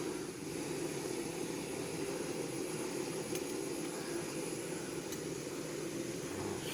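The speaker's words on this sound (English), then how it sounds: "And light up the stove." A CampingGaz CV206 backpacking stove burns with a steady, close, even roar that holds constant throughout, with no talking over it.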